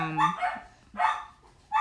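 Pet dogs at a house bark and yip in three short bursts, close and fairly loud, with no talking.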